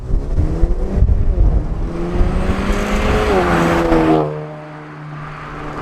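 A 2018-or-newer Honda Accord with a DC Sports exhaust drives past, loud and close, its engine tone sweeping up as it nears and then dropping away, leaving quieter background.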